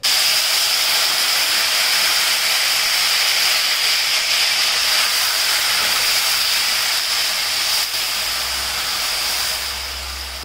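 Ground masala paste and a pinch of asafoetida sizzle in hot oil for paneer tikka masala, a loud, steady hiss that runs unbroken from start to finish with no voices over it.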